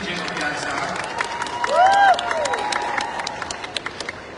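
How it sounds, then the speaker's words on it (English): Applause at a Miss Grand International pageant homecoming press conference: scattered, crisp claps and crowd noise run under a speaking voice, with a brief tonal whistle partway through and claps growing more distinct toward the end. "Let's give a warm of applause for CJ Opiasa."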